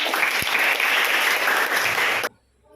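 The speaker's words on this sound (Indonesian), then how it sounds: "Berikan dulu aplaus untuk semua nilai kelompok." A classroom group claps for all the teams, a dense burst of applause lasting about two seconds before it cuts off abruptly into quiet.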